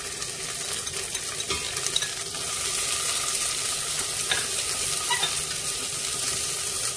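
Minced garlic and lemongrass sizzle steadily in hot oil in a pan, a loud continuous frying hiss that grows fuller partway through, heard up close with no talking.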